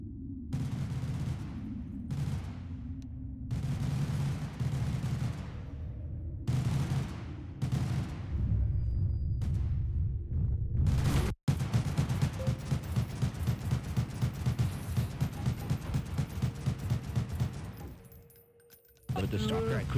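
Gunfire in Garry's Mod: several separate loud shots at first, then a long rapid automatic burst of rattling fire, close and dominant, briefly cut off near the end.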